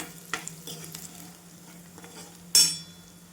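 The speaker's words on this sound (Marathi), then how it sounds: "आणि छान परतून घेऊया." Onion and green chili sautéing with turmeric and salt in a pan, a low steady sizzle with a few soft stirring scrapes and one sharp metallic clink near the end.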